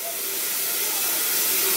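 Steady, loud hissing sizzle of water hitting a hot pot while dyeing a wig, a continuous broadband spray-like noise that swells slightly and holds throughout.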